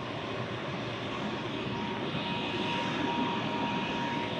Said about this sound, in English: you can hear the fans on the supercharger in it